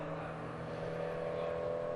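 Race cars on a circuit at a motor racing event, a steady droning engine note heard from a distance under a faint background hum.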